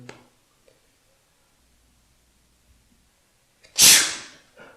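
A single loud, close sneeze bursts out after near silence, a sharp noisy blast that fades quickly.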